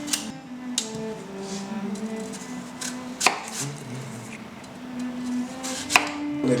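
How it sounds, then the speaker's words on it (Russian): A knife slicing a freshly peeled apple on a board for a Bukharan pilaf dish, soft repeated cuts with a few sharper knocks of the blade against the board, close and quiet, no speech. "Нарезаю таким же образом,"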